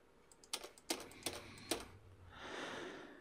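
Keys clicked and the delete key pressed on a computer keyboard: four or five sharp, separate taps in a loose rhythm, close and fairly quiet, then a soft rustling hiss.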